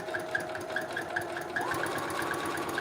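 A sewing machine runs steadily while backstitching a seam on a red dress, a close, even mechanical whir with a faint rhythmic ticking, its pitch lifting slightly partway through.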